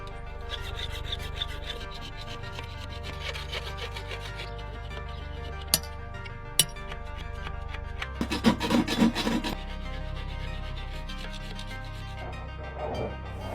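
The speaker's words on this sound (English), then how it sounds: "And you see now we do filing." Rough, continuous rasping of a metal file working over a freshly cast Benin-style sculpture. The scraping strokes run steadily throughout, with a denser flurry of quicker strokes partway through.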